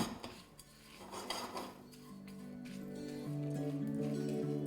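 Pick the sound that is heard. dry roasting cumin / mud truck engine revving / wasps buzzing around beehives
dry roasting cumin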